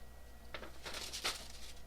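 Paper pattern booklet for new sewing and quilting designs being shuffled and handled close up, with a few crisp rustles and flicks over a steady low hum, no talking.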